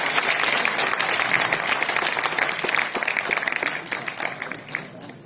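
Audience applause for filmmaker Rajendra Singh Babu at a 50-year celebration of the film Bandhana, a dense, sustained burst of many hands clapping that fills the hall and slowly thins toward the end.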